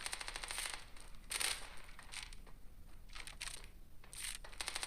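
Gunfire in the mobile shooter Standoff 2: faint, distant bursts of rapid shots and single cracks scattered through a steady background hiss, with no talk over them.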